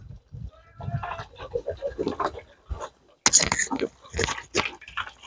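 Native pigs on a farm grunt and squeal in irregular bursts at close range, mixed with other farmyard noises and a few sharp louder outbursts.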